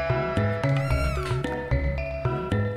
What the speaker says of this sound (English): Oh, and that's Jasper's cat.